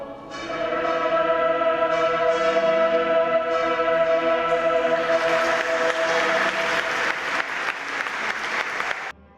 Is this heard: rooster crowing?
no